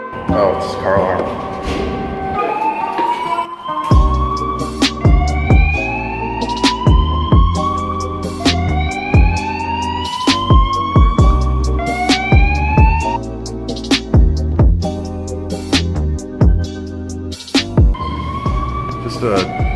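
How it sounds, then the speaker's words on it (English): A car alarm cycles loudly through rising, whooping electronic tones, repeating steadily for the whole stretch. "Oh, it's a car alarm."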